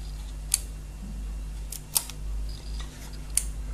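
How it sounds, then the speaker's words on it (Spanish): Three sharp, brief clicks of an electrical relay switching as a magnet is brought near it on a circuit board, spaced about a second and a half apart over a low steady hum, with no talking. "oímos sonoramente el clic del relé y estamos realizando la conmutación"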